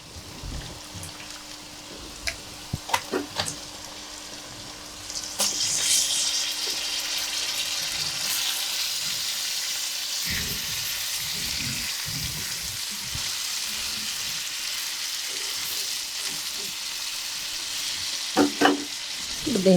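Chicken pieces added to a pan of browned onions and frying without water, a steady sizzle rising after a few seconds, with occasional clinks and scraping of a utensil stirring close by.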